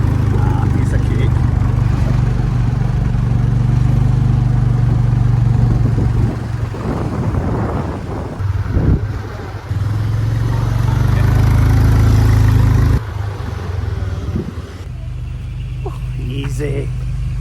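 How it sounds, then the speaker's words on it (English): A motorbike taxi's small engine hums and rumbles steadily up close during a ride in Thailand, its pitch shifting now and then, with people talking over it at times. "you know I love a grab motorbike ride."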